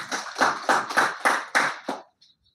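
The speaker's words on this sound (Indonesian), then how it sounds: "Sekali lagi tepuk tangan untuk tim." Applause for a newly inaugurated organization team at a ceremony: about seven rhythmic, evenly spaced clap bursts from a small group, close and fairly loud, then stopping abruptly.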